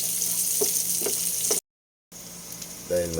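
Garlic and onion frying in very hot cooking oil, a steady loud sizzle with a few soft stirring knocks, broken by a brief silent gap before the frying resumes and swells at the end.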